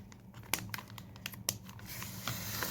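Scissors cut open a floral paper package trimmed with washi tape, making quiet crisp snips and papery crinkles in a short irregular run, close by, with no talking.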